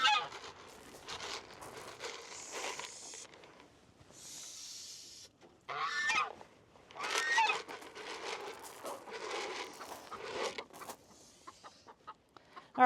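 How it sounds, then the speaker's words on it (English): Farm birds at a chicken coop, heard as a run of harsh hissing and clucking bursts, loud and close, with short pauses between the outbursts. "What you hissing for?"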